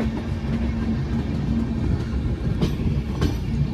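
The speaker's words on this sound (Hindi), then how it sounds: "लेकिन हमारी ट्रेन अब प्लेटफॉर्म में घुसने वाली है फुलेरा के।" Dee Janshatabdi passenger train rolling toward Phulera station, a close, steady rumble of wheels on track with rhythmic clacks and a faint metallic hum, no talk.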